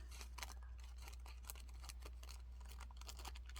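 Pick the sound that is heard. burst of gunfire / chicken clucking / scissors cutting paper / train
scissors cutting paper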